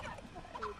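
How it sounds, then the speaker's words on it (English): A chicken in the Fortnite video game gives a brief clucking call over dense, steady game background noise, with no one talking. "I'm gonna kill that chicken."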